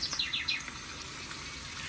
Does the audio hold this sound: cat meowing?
no